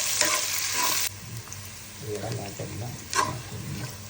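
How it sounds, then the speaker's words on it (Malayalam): Green chilies sauté in a pan with onion, a steady sizzle broken by scraping stirs and clattering utensil strokes, loudest at the start. "ഇനി ഇതിലേക്ക് പച്ചമുളക് നമുക്കൊന്ന് വഴച്ചെടുക്കാം"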